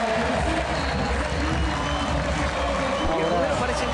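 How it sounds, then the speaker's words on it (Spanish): A stadium crowd roars in a steady, loud ovation for a football player during a Paraguayan league match, the dense cheering and applause continuous throughout with a commentator talking over it. "Ovación para Torpo."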